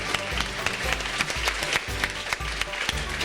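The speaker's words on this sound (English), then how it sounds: "Let's give her a round of applause" Applause from a dinner crowd at a farmer-neighbor gathering honoring dairy farms, steady clapping over a low background hum and faint tonal sounds throughout.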